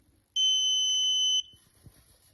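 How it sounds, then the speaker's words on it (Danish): A height-limit barrier alarm gives one loud, steady electronic beep of about a second, then stops, leaving faint background noise. "så kommer der en alarm ud"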